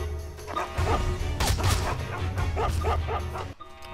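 A dog in the stealth video game Mark of the Ninja barks repeatedly in quick, loud yips over game sound effects and a crash.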